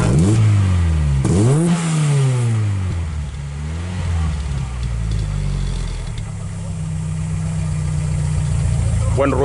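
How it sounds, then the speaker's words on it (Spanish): An Opel Kadett GSI engine revs loudly and close, rising and falling in pitch a few times before settling into a rough, throaty idle, at a classic and tuning car meet in Montjuïc. "Buen ruido hace este coche, espectacular."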